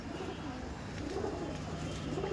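Pigeons in a home loft of over a hundred birds coo softly in short repeated low calls against a quiet background murmur, close to the listener.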